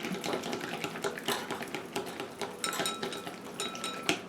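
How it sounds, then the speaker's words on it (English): A whisk clicks and scrapes rapidly against a bowl of cake batter with caramel sauce, a steady quiet rattle of close metallic ticks with no talking. "I'm just going to drizzle a little bit of this caramel sauce in here."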